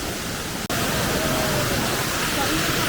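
Heavy rain and a nearby waterfall on the Kudremukh trek make a dense, steady rushing roar, loud and continuous after a brief break near the start.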